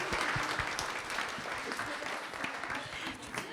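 Warm applause from an audience at a praise concert in a church in Saint-Denis, a dense, steady clapping lasting a few seconds before fading into speech.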